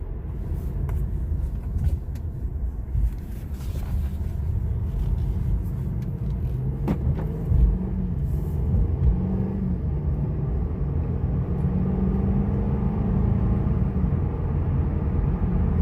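A 2017 Mercedes-Benz C300 drives along with a steady, low engine and road rumble from inside the cabin, smooth and even with a slight rise in pitch as it picks up speed, no talk.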